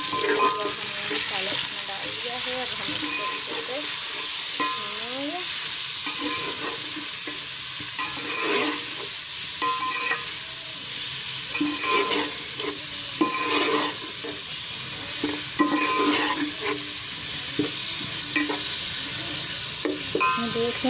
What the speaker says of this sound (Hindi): तो हम प्याज में अब डालेंगे ये टमाटर जो मसाला बनाया था हमने